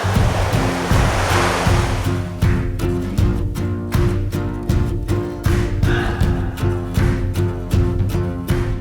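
Sea waves wash continuously onto the shore at Elounda beach, Crete, a loud, close surging roar with repeated crashes and no voices.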